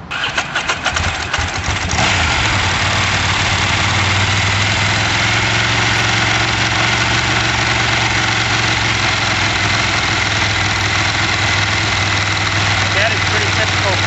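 A 2001 Ducati 900 Monster motorcycle engine cranks and fires within the first two seconds, then settles into a loud, steady, close-up idle with a deep rumbling pulse for the rest of the clip.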